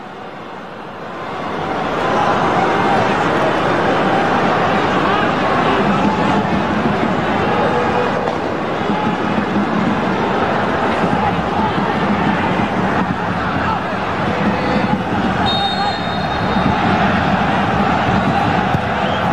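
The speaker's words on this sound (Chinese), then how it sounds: "现场球迷也开始起哄啊，喊黄牌，试图给富明造成一些心理压力。" Football crowd at a 2023 Chinese Super League match between Tianjin Jinmen Tiger and Zhejiang, fans jeering and shouting for a yellow card; a loud, steady stadium roar of massed voices fills the whole stretch without letting up.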